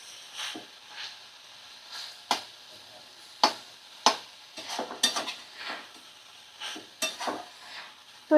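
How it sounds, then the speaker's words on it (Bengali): A spoon scrapes and knocks in a pan of drying banana stem stir-fry with the gas turned off, giving irregular sharp clinks and scrapes spaced a second or so apart over a faint background. "একটু নাড়াচাড়া করতে হবে।"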